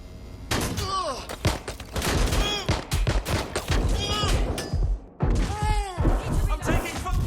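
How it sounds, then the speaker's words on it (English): Heavy gunfire in the video game Watch Dogs 2, loud rapid bursts and single shots with whizzing and impacts, nearly continuous, under brief spoken voices. "I'm taking fire."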